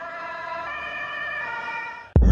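An ambulance siren wails steadily for a couple of seconds, then cuts off abruptly with a loud thump.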